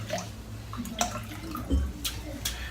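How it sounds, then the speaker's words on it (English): A shaving brush dips into water, giving a few small splashes and drips, close and soft. "So I am going to dip the brush in the water."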